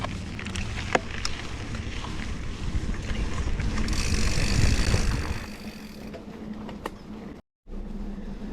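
A bicycle ride gets underway with heavy wind rumble buffeting the microphone and a low mechanical drone, loud and continuous, briefly cutting out near the end, with no talking.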